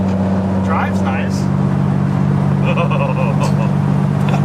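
A worn-out Chevrolet Impala's engine drones steadily at high idle around 3,000 RPM while cruising, a loud constant low hum filling the cabin, with people talking over it.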